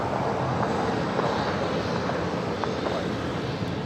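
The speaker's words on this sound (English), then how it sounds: "got the first of two A380 arrivals happening on the north side" An Airbus A380 arrives at LAX, a broad, steady jet roar that holds at a constant level throughout with no clear talk over it.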